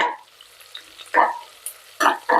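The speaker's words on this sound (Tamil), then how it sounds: "வெங்காயம் நல்லா வதங்கட்டுங்க" Onions saute in a pan, heard as a few short bursts of stirring and sizzle with quiet pauses in between.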